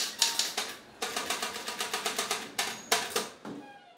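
Keys strike an old manual typewriter in quick, uneven bursts of sharp clacks. The bursts are broken by a few short pauses, with what sound like carriage or bell noises. The typing is close and alone, with no voices.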